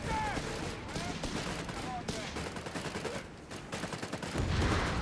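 Thompson submachine guns and other weapons fire in a Company of Heroes 3 battle, with dense overlapping bursts and scattered shots running throughout, mixed with game effects and a heavy blast near the end.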